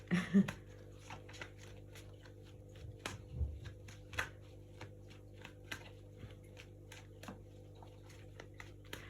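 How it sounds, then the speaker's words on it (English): Rider-Waite tarot cards are shuffled by hand in a quiet room, giving soft repeated riffling clicks and light taps in a steady rhythm close to the listener. "I'm currently shuffling the Rider-Waite Tarot."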